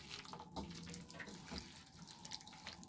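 Water draining and trickling off raw chicken pieces into a sink while being rinsed for coriander chicken, a steady close running-tap flow with faint drips throughout.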